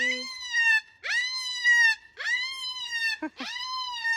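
A parrot gives a run of loud, harmonic calls, about four sharp rising squawks separated by short gaps, close to the listener with no talking, outdoors.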